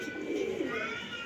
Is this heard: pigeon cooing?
yes